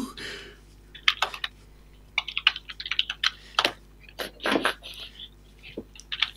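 Keystrokes clatter on a waterproof computer keyboard in uneven bursts of clicks and taps, close and fairly loud, with short pauses between runs and no talking.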